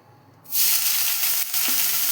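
Grated carrot added to hot ghee in a pan for gajar halwa, bursting into a loud, steady sizzle after a quiet start and continuing with a brief dip, with no voices.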